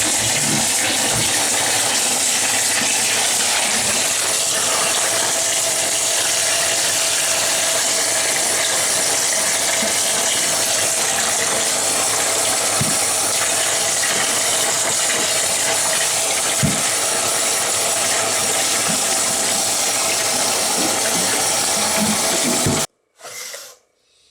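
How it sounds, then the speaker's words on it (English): Old dirty water is dumped from a Marineland C-360 canister filter and its inside rinsed out, a steady broadband splashing and rushing with occasional knocks that runs continuously and then stops abruptly near the end. "we need to go ahead and dump this old nasty water out and just rinse out the inside"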